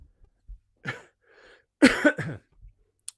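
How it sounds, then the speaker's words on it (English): A few close, sharp coughs and throat clearing near the mic, separated by brief pauses, then a short click at the end. "Pardon me for coughing a little close to the mic"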